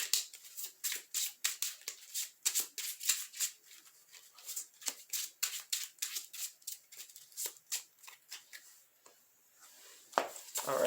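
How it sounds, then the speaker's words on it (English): Yu-Gi-Oh trading cards shuffled by hand, close and crisp, a rapid run of riffling snaps and flicks in uneven bursts with short pauses and no talking. "forgot to do my little shuffling method here"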